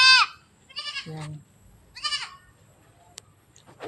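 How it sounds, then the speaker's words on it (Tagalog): Goats on a rural provincial farmyard bleat in several short, close cries, one of them deeper and lower, between quiet gaps. A brief spoken word comes at the end. "Yung mga kambing, oh, lumapit na."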